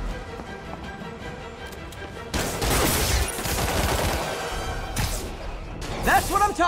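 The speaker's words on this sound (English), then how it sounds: "Gunshot coming!" Gunfire in a Spider-Man Remastered action scene: bursts of shots and crashing impacts erupt over dramatic background music and shouted dialogue, building into a dense, loud chaotic stretch before a sharp whooshing hit near the end.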